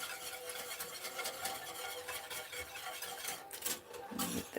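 Soft, continuous scraping and rubbing of a spoon through a pot of Christmas pudding mixture, faint and close, with a slightly louder swish near the end.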